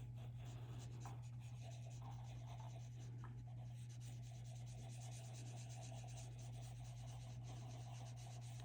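A cotton swab dampened with odorless mineral spirits rubs over colored pencil on textured paper, a faint, continuous close-up scratchy brushing with small back-and-forth strokes over a low steady hum.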